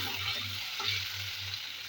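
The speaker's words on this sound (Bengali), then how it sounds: "তো কড়াই তেলটা আমার গরম হয়ে গেছে, একটা একটা করে মাছ আমি ছেড়ে দেবো তেলের মধ্যে।" Koi fish fry in hot oil in a kadhai, giving a continuous close crackling sizzle with no voices.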